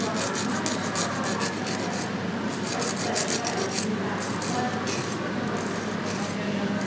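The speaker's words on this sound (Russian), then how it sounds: "Пилим торец" A file rasps steadily across the tip edge of a long, reinforced fingernail during a manicure, a close, continuous dry scraping with rhythmic strokes throughout.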